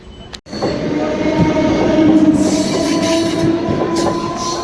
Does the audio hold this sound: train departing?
yes